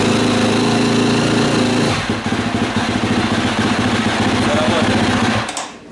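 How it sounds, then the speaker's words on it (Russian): A KTM SXF250 motorcycle engine, just rebuilt after cylinder head and intake valve repair, fires up and runs with a loud, rapid buzzing idle and revs, close up, then cuts off abruptly near the end. "Ну что, мотоцикл собран, пробуем его завести."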